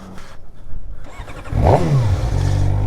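A 2023 Suzuki GSX-R600 sport motorcycle engine idles quietly, then blips into a quick, sharp rev and drops back to a steady rumble nearby.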